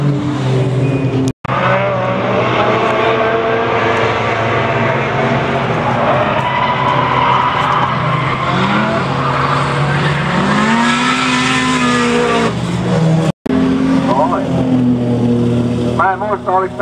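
A Peugeot drift car with an engine of at least one litre revs hard at a drifting event at Ahvenisto, its engine note rising and falling in long sweeps, with tire skids, while a commentator talks over it.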